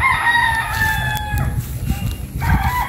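Young gamecock stags, four to five months old, crow on a game farm in Unisan, Quezon, their drawn-out cock-a-doodle calls rising over a busy flock with clucking and low rustling, and a voice briefly heard nearby.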